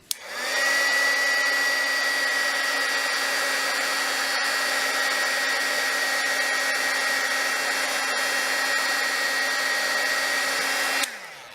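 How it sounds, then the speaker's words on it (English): A heat gun blows hot air to melt gold embossing powder on a craft tag, switching on abruptly and holding a loud, steady whine and rush of air before cutting off near the end. "And get my heat gun."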